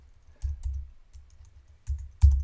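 Fingers tap on a computer keyboard in short, irregular bursts of soft, close keystrokes separated by quiet pauses, with a couple of heavier key presses near the end.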